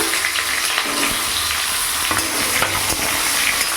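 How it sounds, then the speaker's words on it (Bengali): New potatoes frying in a pan over a loud, steady sizzle, stirred with a few scraping strokes that cut through the continuous crackle. "আলুটা একটু ভাজা ভাজা করবো নাড়াচাড়া দিয়ে"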